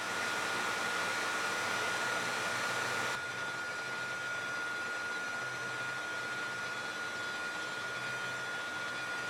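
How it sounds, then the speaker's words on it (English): Belt grinder running a slack 1-inch scallop belt while blending a boot knife blade, a steady loud whirring hiss that drops in level partway through as contact eases, with no talking. "I'll swap out my flat platen for a slack belt setup and blend things a little."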